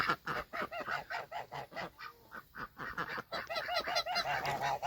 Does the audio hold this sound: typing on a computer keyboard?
no